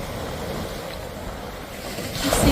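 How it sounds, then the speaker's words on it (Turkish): Waves wash over a pebble beach near Karaburun, Turkey, in a continuous rushing surge with stones rattling, under gusty cold wind, building louder toward the end. "Burası taşlık olduğu için o kadar güzel ki taşların sesi de geliyor. Dalgalar vurdukça."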